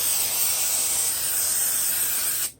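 A steady, bright hiss of cooking oil spray onto a Blue Diamond pan for turkey burgers, continuous for a couple of seconds before cutting off abruptly.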